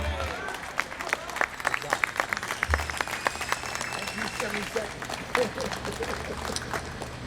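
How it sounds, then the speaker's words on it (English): Applause from a civic ceremony audience in Paterson, a steady patter of claps running throughout with a voice speaking over it. "Let's have another round of applause for our Assemblyman Wimberly."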